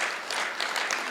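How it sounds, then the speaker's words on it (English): Brief, fairly faint burst of audience applause at a national research dissemination conference in Malawi, with dense clapping from the crowd and no talking. "Give him another round of applause."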